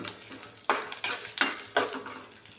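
Peanuts, cumin, mustard seeds and chana dal frying in oil for idli upma are stirred with a utensil, giving a quiet sizzle broken by several scraping, rattling strokes against the pan, with no voices.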